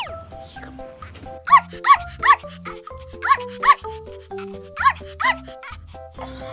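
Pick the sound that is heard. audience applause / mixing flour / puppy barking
puppy barking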